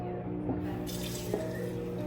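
Tap water running into a pot being filled for cooking spaghetti in a home kitchen, a steady close hiss and splash with a couple of faint knocks, no talk.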